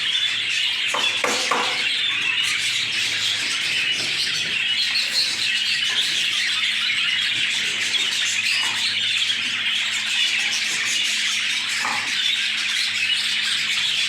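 Albino and lutino budgerigars chirping continuously, a dense, bright chatter of overlapping tweets and squeaks, close and loud with no pauses.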